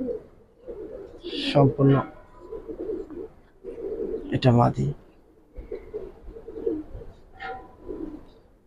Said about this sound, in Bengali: এগুলো একবার পুরান জাতের কবুতর